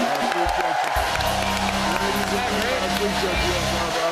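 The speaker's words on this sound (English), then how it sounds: "I want you guys to give yourself a round of applause" A live late-night TV studio audience applauds and cheers in a steady, dense wash of clapping and whoops that lasts throughout, with a voice talking over it.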